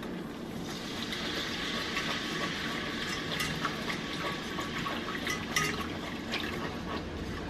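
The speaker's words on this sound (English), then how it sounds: "You want to make sure that you whisk it as you're pouring it in." Chicken stock poured into a roux in a pan while being whisked, a steady liquid splash and swish with light scraping clicks, continuous and fairly faint, no talking.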